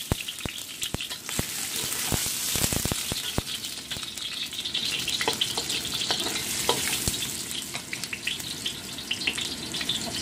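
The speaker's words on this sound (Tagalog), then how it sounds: "Lagyan natin ng oil and then ito yung apat na cloves ng garlic" Garlic cloves sautéing in hot oil in a wok, a steady broadband sizzle with sharp clicks and scrapes of stirring, close and fairly loud throughout, no voices.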